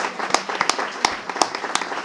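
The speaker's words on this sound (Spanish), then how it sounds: "Pero vamos a aplaudir a Victoria." Scattered, fairly close hand claps from an audience at a literature panel event, irregular and sparse rather than a full ovation, lasting about two seconds.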